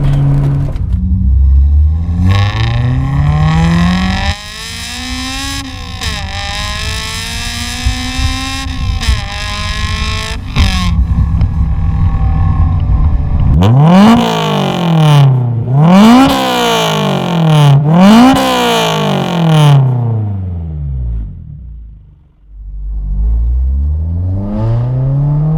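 A Honda S2000's engine revs hard through the gears while driving, its pitch climbing in repeated sweeps and jumping sharply into VTEC, loud and close with quick shifts between pulls.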